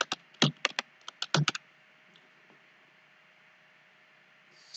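Quick bursts of computer keyboard typing, a cluster of crisp key clicks close up, then a pause into quiet hiss.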